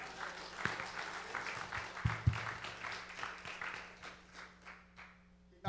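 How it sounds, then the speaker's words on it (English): Audience applause at a graduation celebration, moderately faint, with scattered claps and some voices mixed in, tapering toward the end. "We're going to keep clapping for you,"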